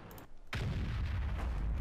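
A tank cannon fires in World of Tanks, a sudden loud boom after a brief lull that rolls into a heavy, sustained rumble, with no voices over it.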